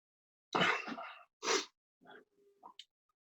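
A single loud sneeze with a sharp intake and burst, followed by a couple of short breathy exhales and small mouth sounds, then silence.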